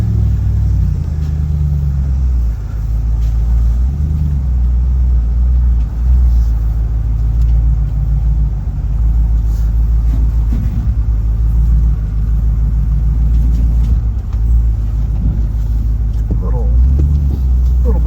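An off-road vehicle with lockers fords the water at Earls Ford on the Georgia Traverse, its engine a steady, loud low rumble throughout with bumps and splashy texture, while a person talks over it.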